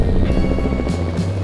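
A helicopter's steady low rotor thrum, loud and continuous, with a rumbling engine drone and no voices.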